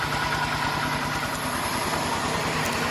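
A grain grinder for milling paddy, mounted on the front of a walking tractor, runs with a loud, steady, close engine drone and a rapid mechanical pulsing, with no talking.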